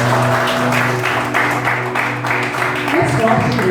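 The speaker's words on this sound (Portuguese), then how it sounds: "Aplauda ao Senhor Jesus." A church congregation applauds during a Portuguese-language service, with broad, steady clapping filling the whole stretch over a sustained musical tone, loud and close throughout.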